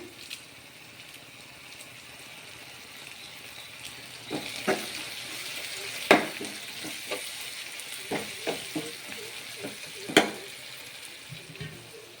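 Onions frying in a pan on a home stove give a steady low sizzle, with scattered louder clicks and spatters that jump out here and there over the sizzling.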